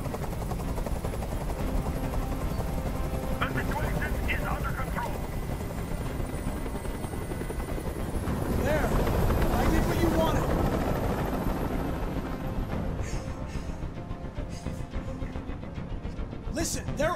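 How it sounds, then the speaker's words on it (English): Helicopter from the Detroit: Become Human game hovering overhead, a loud continuous rotor thrum that swells in the middle and persists while voices talk over it. "I can't stand that noise anymore. Tell that helicopter to get out of here."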